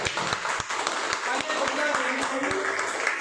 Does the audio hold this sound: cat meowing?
no